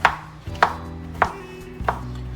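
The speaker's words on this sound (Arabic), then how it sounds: "طبعا بدي اقطعهم، احاول يكونوا قطع صغيره" A knife chops plain and hazelnut-mixed chocolate into small pieces on a board, with four crisp, evenly spaced chops standing out clearly over a quiet background.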